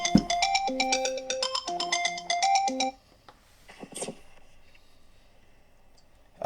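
A bright electronic chime melody from a Ring Battery Doorbell Pro plays clearly for a few seconds, then stops, followed by quiet room noise and a faint short tone.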